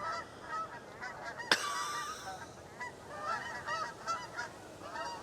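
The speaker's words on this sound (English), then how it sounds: "Another gaggle coming." A flock of geese honks repeatedly outdoors, loud calls in irregular bursts over a low background hiss, with one sharp, brief crack partway through.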